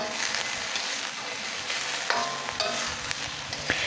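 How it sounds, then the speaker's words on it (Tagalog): Chicken, shrimp and liver sautéing in a pan for pancit bihon, a dense steady sizzle with intermittent scraping clicks from stirring, close and fairly loud. "Gisayin lamang natin yan ng 1 minuto."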